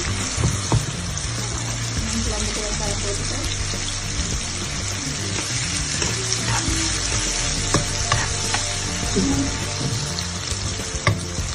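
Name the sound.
mustard seeds and onions frying for fish curry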